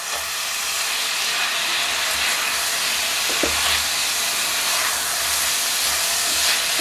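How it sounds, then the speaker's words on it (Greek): Garlic sizzles in a hot pan after the alcohol has cooked off, giving a continuous, even hiss close by with a brief clink partway through. "Μόλις εξατμιστεί το αλκοόλ, προσθέτω το σκόρδο. Το ανακατεύω."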